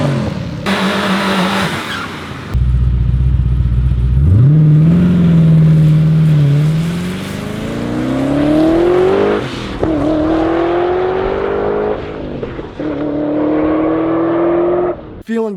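A cam-only LS1 Trans Am WS6 roars loudly off the line on a drag strip, its V8 climbing through several hard upshifts with rising pitch, engine note dominating throughout and a brief squeal near the end.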